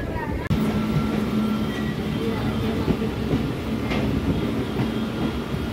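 The Shaktinagar Intercity Express at the station in Sonbhadra, a steady, loud rumble of railway cars rolling past with faint clattering throughout.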